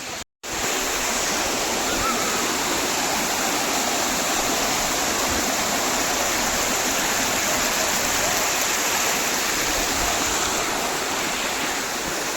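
Steady, loud rush of a waterfall in Uttarakhand, heard up close as a dense, unbroken roar after a brief cut at the start.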